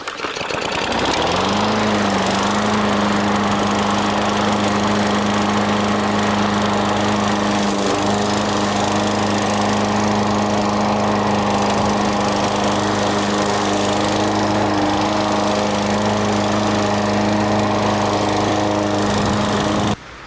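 A DeWalt self-propelled lawn mower starts up and runs loud and steady close by, with a constant engine drone that holds all the way through.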